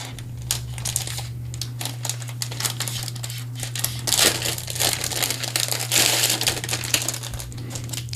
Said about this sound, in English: So let's go ahead and rip this off,